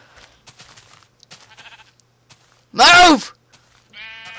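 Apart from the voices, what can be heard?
black sheep bleating in Minecraft video game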